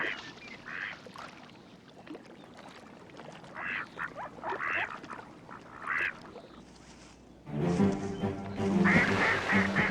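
Ducks on a marsh quack in several short bursts amid outdoor background, followed by a louder, busier stretch of sound near the end.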